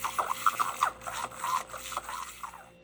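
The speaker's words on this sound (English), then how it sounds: "now we're going to just blend together with a mini mixer" Mini mixer whirring as it blends sweet almond oil into mica powder for beeswax and honey soap, a soft buzzing rattle with small scraping clicks, steady and close throughout.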